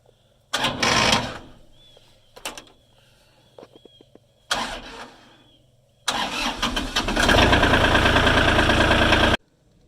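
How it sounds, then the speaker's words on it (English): Tractor engine cranking over in several short bursts before catching and running at a steady, loud idle on a farm. "get the tractor started up, get it out in the field"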